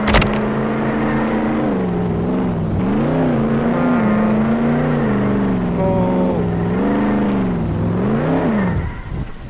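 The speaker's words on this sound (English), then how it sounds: "Drifting now." Car engine in the Roblox Jailbreak game drifting, a loud sustained virtual motor with rising and falling pitch as it slides and revs, alone without talk.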